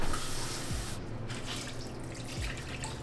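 Water pours steadily into a crockpot in a continuous splashing stream, close by, with no one speaking.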